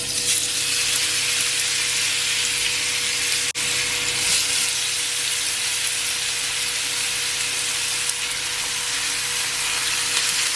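Steak dropped into a pot of hot olive oil for Jamaican stewed pepper steak sizzles loudly and steadily with a bright, continuous hiss, no voices over it.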